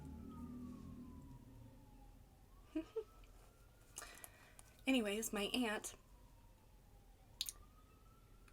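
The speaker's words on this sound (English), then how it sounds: "do you hear those sirens?" Distant emergency vehicle sirens wail faintly in the background, a rising and falling tone underneath someone talking and occasional eating clicks.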